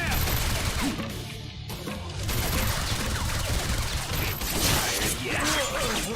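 Gunfire from the Wolverine video game: dense, continuous volleys of shots and crashing impacts fill several seconds at a steady, loud level, with game voices mixed in.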